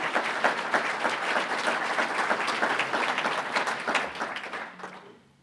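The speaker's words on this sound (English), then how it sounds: "I think we deserve a round of applause for that." An audience at the 2019 Roseville, California State of the City address claps in a sustained, dense round of applause that holds steady and then tapers off near the end.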